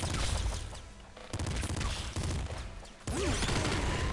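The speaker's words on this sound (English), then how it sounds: "Machine gun's good." Machine gun fire in Nuclear Throne rattles in dense, crunchy bursts amid chaotic clatter and impacts, with brief gaps between volleys and a rising zap-like tone near the end.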